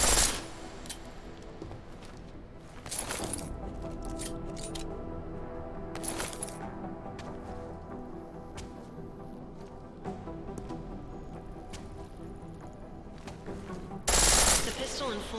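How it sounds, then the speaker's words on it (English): Video game pistol in full auto: rapid bursts of sharp gunfire over a continuous game soundscape, loudest at the start and again near the end, with a few isolated shots between, and a voice speaking at times. "The pistol in full auto will take down targets fast, but it'll burn through your ammo."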